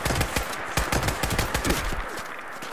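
Rapid automatic gunfire in a video game, loud close bursts of fast repeated shots running continuously with no talk over them.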